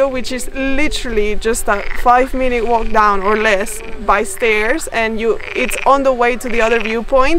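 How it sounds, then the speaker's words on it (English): A dense chorus of frogs croaks rhythmically and loudly at Lago do Canário on São Miguel in the Azores, continuing under a person talking close by. "You can hear the frogs in the background"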